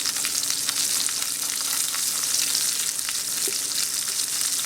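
Stuffed chicken breast frying in a pan, a steady, close, hissing sizzle with faint crackles throughout.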